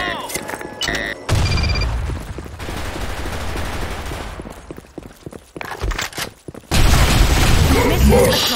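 A grenade blast in the shooter game Blackshot, a loud booming burst followed by rumbling gunfire and footsteps, with a second heavy explosion near the end.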